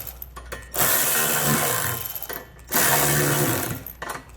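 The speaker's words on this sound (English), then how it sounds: "To tighten up the nuts that are on the U-bolts, I'm going to use a 9/16 socket" A socket on a power tool drives the U-bolt nuts of a Curt trailer hitch being fitted to a 2017 Honda Accord, in two loud, close whirring bursts of about two seconds each, separated by short pauses, with no speech.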